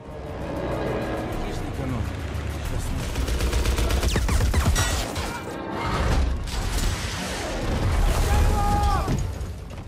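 Wartime battle sound effects of gunfire, rockets and bombs on a snowy front against Nazi troops: dense, continuous rattling bursts and heavy blasts layered over a rumbling low roar, loud throughout with swells of intensity.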